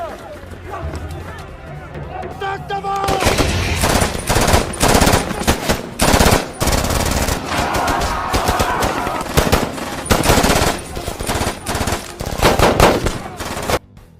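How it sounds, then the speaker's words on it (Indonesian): A chaotic gunfight with machine guns against armed men in mountain terrain, loud bursts of automatic fire and scattered shots crowding together, with voices and commotion mixed in beneath the shooting. "terjadilah baku tembak lagi dengan orang-orang bersenjata Zayev"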